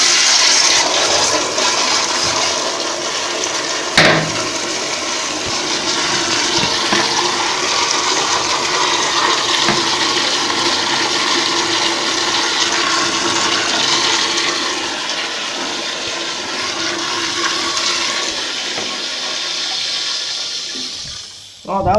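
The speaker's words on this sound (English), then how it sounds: "Oh, that was a long flush." An American Standard toilet at a Chino Hills State Park restroom flushes in a long, loud, steady rush of water lasting around twenty seconds, with a brief knock near the start and the refill tapering off at the end.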